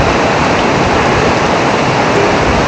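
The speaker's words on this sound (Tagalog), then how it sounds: "Lakas pa ng ulan." Steady, dense heavy rain pours continuously, a loud unbroken wash of noise with no voices.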